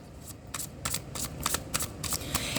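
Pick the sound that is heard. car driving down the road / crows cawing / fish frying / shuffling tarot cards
shuffling tarot cards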